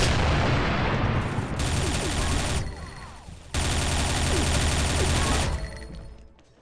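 Loud bursts of rapid gunfire from a shooter video game crackle in long sustained volleys, broken by a short quieter gap and ending with a fading tail.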